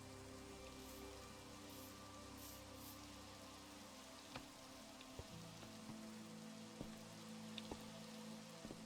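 Steady rain from the Minecraft video game patters continuously at a soft, even level, with a low droning hum beneath and a few faint clicks scattered through.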